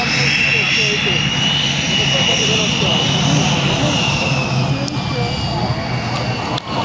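A loud jet engine roars continuously overhead with a rising whine as an L-39 Albatros jet flies past at an air show in Čáslav, a voice on a public address system talking over it.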